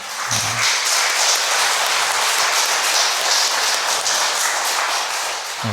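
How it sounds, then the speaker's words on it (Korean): Congregation at a Sunday parish Mass in a Catholic church breaking into sustained applause, a loud, dense, even roar of clapping hands filling the room with no speech over it. "박수 한번 쳐드릴까요?"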